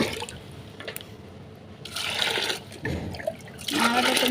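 Soaked grain being washed by hand in water in a home kitchen, with splashing, trickling and pouring bursts that come and go in uneven waves, close and fairly loud, without talk.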